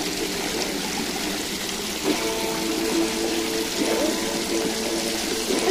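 A child in a swimming pool stirs up continuous water churning and sloshing, close and fairly loud throughout, with a faint tonal voice-like sound partly masked underneath.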